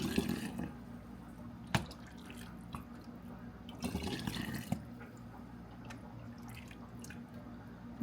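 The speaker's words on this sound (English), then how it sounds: "So just as my bowl is getting full here, I'm just going to start ladling it in." Crushed tomatoes are ladled from a full bowl into canning jars, with wet drips, splashes and a few sharp clinks of the ladle against glass in a home kitchen, steady and close.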